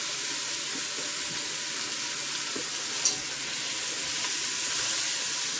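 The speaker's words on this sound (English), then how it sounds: "So we're gonna let this fry up a little." Chicken feet frying in a pot for a Jamaican curry stew with ginger, giving a steady close sizzle and hiss throughout, with one brief faint clink partway through.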